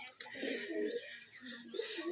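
Soft, low cooing of Rajshahi Giribaz pigeons, a few murmuring coos close by in a quiet setting.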